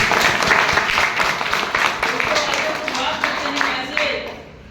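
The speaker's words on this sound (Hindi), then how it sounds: "जोरदार ताली बजाइए" An audience claps loudly for the chief guest at an IMC event, a dense crowd applause with crisp individual hand claps, sustained and then fading out toward the end.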